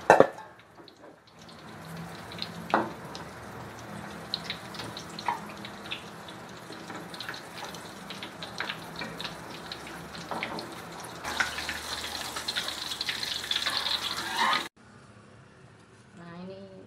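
Battered crispy shrimp frying in hot oil give a steady, dense sizzle and crackle that runs for most of the stretch and grows louder toward the end before cutting off, with some handling noises mixed in.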